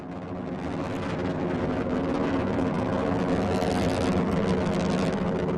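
Rocket engines roaring during a spacecraft launch with strap-on boosters, a dense, continuous broadband rumble that swells slightly and holds steady, heard at a distance without speech.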